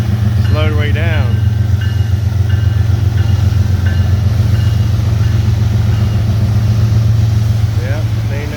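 A CSX freight train with five locomotives up front creeps slowly into the yard at Cumberland, Maryland, its engines a steady, loud low rumble throughout, with a brief squeal of wheels or brakes early on.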